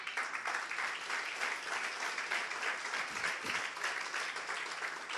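A church congregation claps during a sermon, a steady, fairly distant crackle of many hands that carries on evenly with no talking over it.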